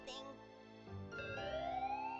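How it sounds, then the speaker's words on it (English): An ambulance siren approaches at night, a wailing electronic tone that sweeps and rises in pitch, fairly faint and heard alone over a quiet background. "the sound of an approaching siren wails out into the night"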